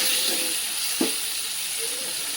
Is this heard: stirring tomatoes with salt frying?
yes